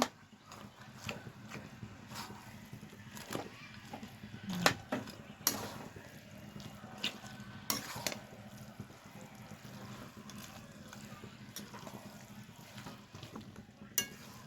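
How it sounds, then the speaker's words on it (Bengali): A spatula breaks rui fish heads into a cabbage curry in a hot pan. A steady sizzle runs under repeated scraping taps and clinks that come at an uneven pace. "এবার আমি ছোট ছোট টুকরো করে খুন্তির সাহায্যে ভেঙে নেব"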